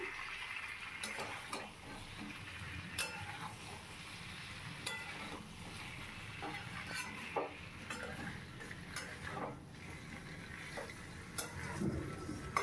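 Ground cumin, coriander and green chilli frying in a pan, a soft, close sizzle with intermittent scraping and tapping of stirring, fairly quiet and continuous.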